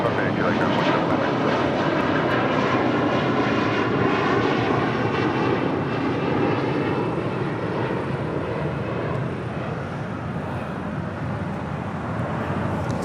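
An American Airlines airliner on departure from runway 25 right at LAX, bound for Charlotte, gives a loud continuous jet engine roar that holds steady and slowly fades. A voice speaks over the engine noise.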